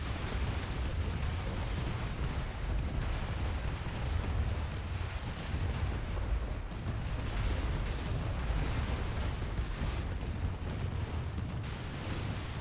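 Turrets firing in the video game AI War 2 make a dense, continuous barrage of booms and pops at a steady loud level, with overlapping shots and no pauses.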